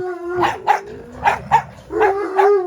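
A dog barks in a snow-covered garden, giving three pairs of close, loud barks in a steady rhythm with short pauses between them.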